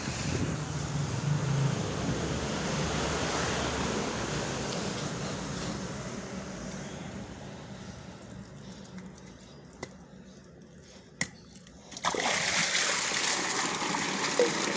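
Water draining out of the first chamber of a pond filter after the net is lifted, a steady rushing and splashing flow that thins and quiets midway, broken by a few sharp knocks before the rush surges back.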